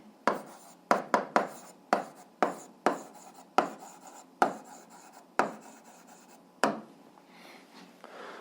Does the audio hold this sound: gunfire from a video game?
no